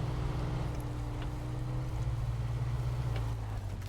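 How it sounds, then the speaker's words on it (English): A GMC truck engine idling in Snowrunner, a steady low rumble with an even tonal hum, holding constant and fairly loud throughout without revving or talk. "And then I am going to turn off the engine and hop over to the Fleet Star again"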